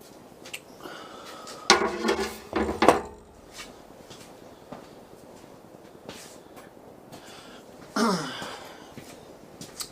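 Metal conduit clamps are picked up and handled in a workshop, giving two bursts of clinking, rattling metal followed by a quieter stretch and one more clatter near the end.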